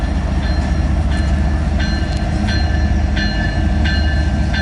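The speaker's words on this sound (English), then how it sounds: "That being said, the CN 2899 and a KCS Ace." A freight train led by CN locomotive 2899 and a KCS Ace rolls steadily past nearby, a loud continuous rumble with rhythmic metallic clicks from the wheels and no voices.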